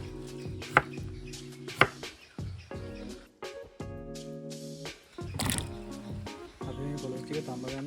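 Young jackfruit is chopped into pieces for boiling, giving a few dull knife thunks at a loose pace, with a steady tonal hum running beneath and moments of quiet.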